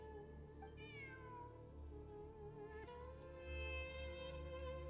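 A cat meows several times in a Genshin Impact game soundscape, with a melodic electronic music bed and chiming tones playing underneath.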